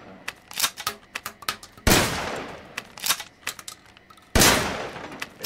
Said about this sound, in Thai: นี่คือการยิงปืนใน Resident Evil นะครับเป็นสนามซ้อมยิงปืน